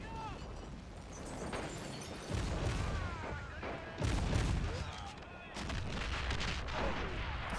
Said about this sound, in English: Mortar should definitely take another crack at this.